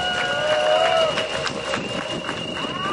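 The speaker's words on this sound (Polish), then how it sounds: "Wielkie brawa również dla nich." A crowd at the podium of the Rajd Polski rally claps and cheers in a dense, steady wash of applause, with a tone sounding over it.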